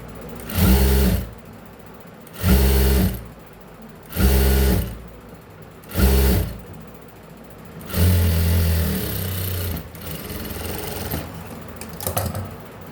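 A sewing machine stitches a blouse in four short, loud, evenly spaced bursts, then a longer run and quieter intermittent stitching, with no voices.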